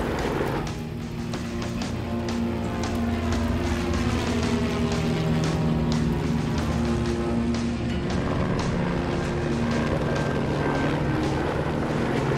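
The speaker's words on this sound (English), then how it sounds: "So you can fill the helicopter while you're hovering over a body of water." A helicopter hovers close by, its rotor thumping steadily with a loud, continuous whine that stays constant throughout.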